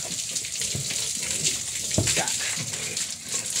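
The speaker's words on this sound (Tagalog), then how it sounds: "lagyan po natin ng tubig" Water runs steadily from a tap or hose into an animal drinker, a continuous splashing hiss with occasional faint voices and animal sounds nearby.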